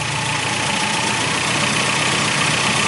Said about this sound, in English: the revs will start to pick up